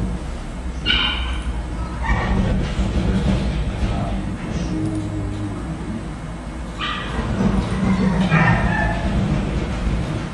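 Dog barks ring out in a few short bursts near the start and again toward the end, over a steady background hum with faint voices present.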